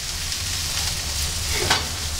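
Vegetables stir-frying in a pan, a loud continuous sizzle close by with a soft stirring scrape near the end and no voices.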